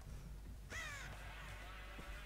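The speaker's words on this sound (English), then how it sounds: "Fucking birds." A single crow caws once in the Dead by Daylight video game, a harsh rasping call that is fairly clear over a constant low ambient drone, followed by quiet background atmosphere.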